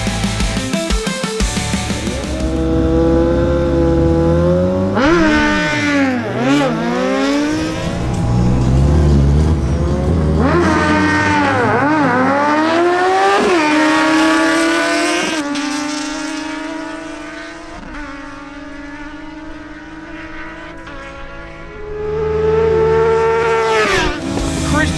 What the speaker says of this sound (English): Christian Alcala on his Suzuki GSXS750 faces Martin Correa on his Kawasaki Ninja